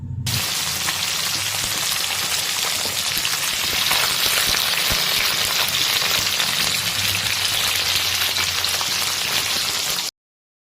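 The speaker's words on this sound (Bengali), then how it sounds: "এখানে কিন্তু মাছগুলো ভাজা হয়ে গেছে।" Small freshwater fish fry in hot oil, giving a dense, steady crackling sizzle that stays loud and close for about ten seconds without pause before cutting off abruptly.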